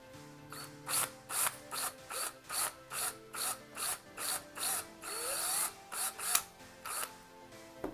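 Power drill boring in repeated short bursts into the plastic grill emblem of a 2017 Ford F-150, each loud whine and grinding crunch of plastic separated by brief pauses, close up with no talking.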